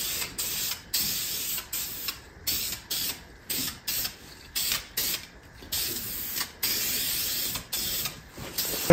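Spray gun laying a primer coat onto a G35 car body in a shop, heard as a repeated series of short, fairly close hissing bursts with brief pauses between passes.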